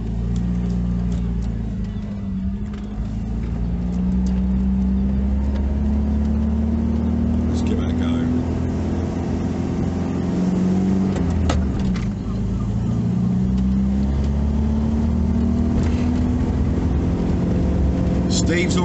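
A 1988 Toyota Hiace campervan's engine labours uphill, a loud steady drone with rising and falling pitch as it strains, heard from inside the van with faint background voices.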